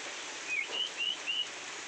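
Rain falling steadily on a mountain farm where chickens and turkeys are raised, an even hiss throughout with a few faint high chirps over it.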